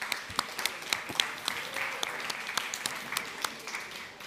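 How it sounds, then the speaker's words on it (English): An audience at a youth conference gives a round of applause for the facilitators, a steady patter of many hands clapping at moderate volume in a hall. "maybe we can also give them a special round of applause for their work."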